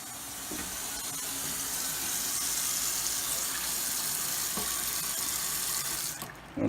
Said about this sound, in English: I've been running the water, for about 4 or 5 minutes while we've been talking.